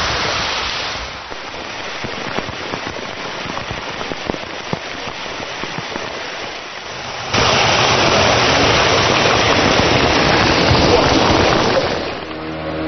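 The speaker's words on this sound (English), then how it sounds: "I'm going to head into the rain and see if I can find it." Steady rain pours down at a reservoir as a dense, hissing wash, growing noticeably heavier and louder partway through, with no voices present.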